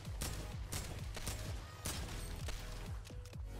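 AK assault rifle in Fortnite firing in quick, regular bursts of crisp, booming shots, steady and fairly quiet throughout.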